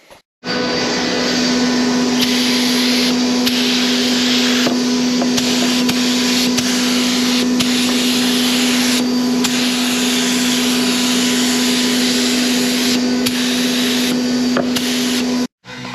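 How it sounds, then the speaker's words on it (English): A spray gun hisses steadily as it coats an ERF truck bumper in primer during a restoration, a loud continuous close-up spray with a few short pauses between passes. "Let's get the primer squirted on."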